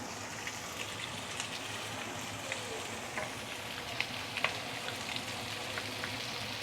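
Egg seasoned with black soy sauce frying in a pan for mee sua, a steady even sizzle with a few small pops and scrapes, close and moderately quiet, no voices.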